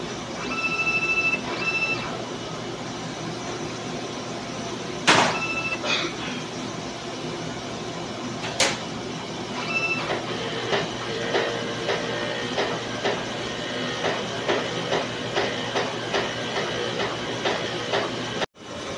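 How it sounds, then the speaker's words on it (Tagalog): A DTF printer running head cleaning: a mechanical whir and hiss runs steadily, broken by a few sharp clunks and short beeping tones, with repeated small clicks near the end. "Dito naman po mag-head clean."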